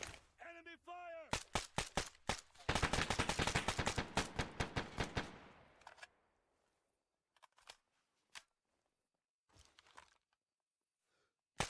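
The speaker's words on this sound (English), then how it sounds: "Enemy fire!" Enemy gunfire in the video game Arma: rapid automatic bursts and single shots, loud at first and then sparser and fainter, with a brief voice at the start.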